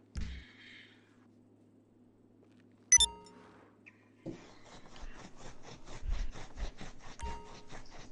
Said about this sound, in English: You scratching yourself